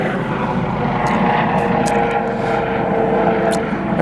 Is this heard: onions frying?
no